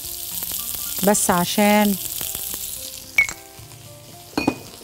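Chicken kofta fries in butter and oil in a pan with a steady sizzle, broken by clattering as the pieces are moved and turned. A person speaks briefly over the frying.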